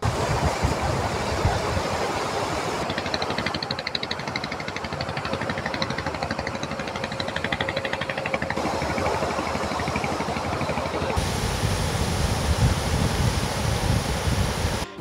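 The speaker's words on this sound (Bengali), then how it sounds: "সাগর তীরে দাঁড়ালে ঢেউ ছুঁয়ে যাওয়া যেন এক ভিন্ন সুখ" Sea waves wash continuously onto a sandy beach at midday, a loud broadband rush with steady surf and wind noise, no voices.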